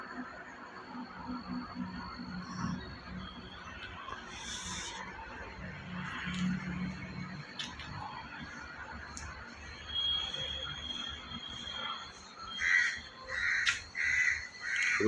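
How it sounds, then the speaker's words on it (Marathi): Crows caw repeatedly around a village, with other birds calling nearby; the calls come in loud clustered bursts, strongest toward the end, over a low background hum. "आणि हा पक्ष्यांचा आवाज"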